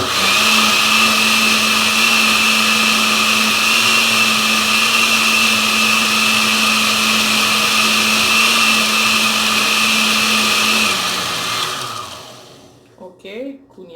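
A small blender mixing corn cream with condensed milk runs loud and steady with a high whine for about eleven seconds, then spins down and stops, followed by a few faint knocks.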